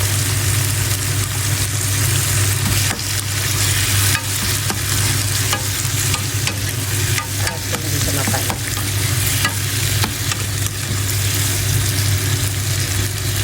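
Tomatoes fry loudly in a pan for a bitter-gourd (ampalaya) dish, a dense, continuous sizzle with stirring scrapes that stays close and even throughout, with no voices.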